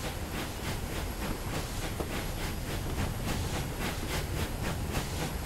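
A Bulleid Light Pacific steam locomotive runs between Southampton and Weymouth in Train Simulator 2017, giving a faint, steady rhythmic chuffing with hissing steam, repeating evenly throughout and with no talk.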